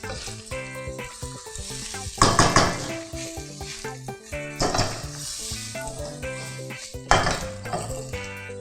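Pasta with sausage and bacon is tossed in olive oil in a hot pan. A close sizzle swells into three sharp bursts with metal clinks, and soft music plays underneath.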